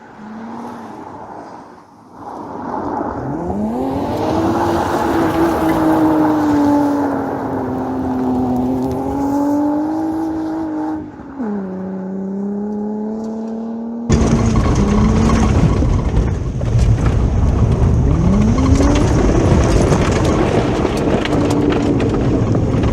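A VW B5 with a 30-valve V6 engine accelerating hard, its revs climbing and dropping through gear changes, loud and close, then a sudden louder, rougher roar of the engine later on, with no talking.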